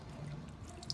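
Water sloshing and dripping inside a bottle as it is shaken during gold panning, a steady close liquid wash with faint trickles and a small splash near the end.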